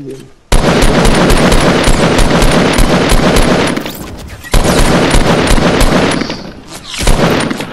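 Sniper fire in the Fortnite video game, with dense bursts of loud rapid gunfire that drop out briefly twice and then resume, under occasional talk.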